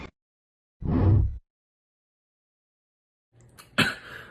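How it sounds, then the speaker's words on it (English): A person's cough heard in a kitchen: one short, fairly loud burst, then silence, and after that a couple of rougher throat sounds close to the microphone. "why you coughing like that?"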